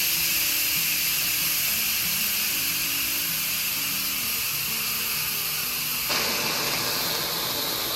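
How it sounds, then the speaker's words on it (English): Steady loud hissing of steam escaping an Instant Pot pressure cooker valve during a water test, constant throughout, with a rumbling undertone and a sharper burst of hiss near the end. "that's what it looks like when the steam is coming out"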